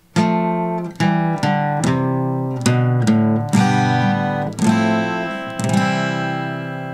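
Acoustic guitar plays a chord progression. About eight distinct strums, each ringing out before the next, sound loud and close with no talking.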